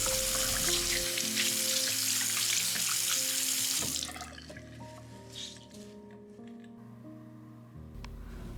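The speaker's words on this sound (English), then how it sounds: "I'll then rinse it with some fresh water" Tap water runs into a kitchen sink as an item is rinsed, a loud steady splashing stream that cuts off partway and leaves quieter drips and clatter.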